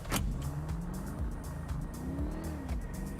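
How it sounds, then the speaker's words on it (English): A car in a role-play video game, its engine glitched to sound electric, a continuous smooth whine with rising and falling pitch sweeps, close and steady with no talk. "It makes my car sound so weird because it sounds electric"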